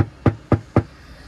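Three evenly spaced knocks on a Kia Seltos HTX car door panel, close and dull, each a short thud with a quick decay.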